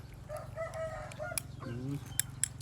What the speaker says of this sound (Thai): บรรยากาศเชียงไก่ขัน